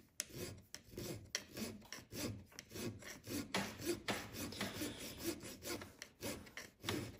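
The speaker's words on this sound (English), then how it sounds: "So I'm just going to file this down." A hand file rasps steadily over a metal part from a golf cart engine during a teardown, with repeated close scraping strokes in an uneven rhythm and no talking.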